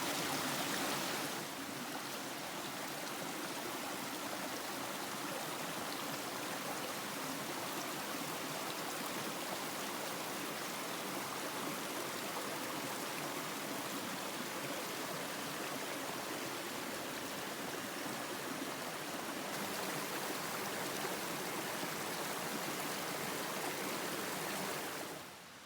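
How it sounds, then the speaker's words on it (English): Creek water rushes and burbles in a steady, continuous flow on a backpacking trail, close by and fairly even in loudness, with no voices. "So now we're cooling off in the creek."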